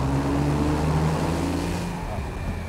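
A Porsche 911 997.2 Carrera 4S Cabriolet engine drones steadily in third gear through a tunnel, a loud sustained hum with shifting pitch, with a voice talking over it.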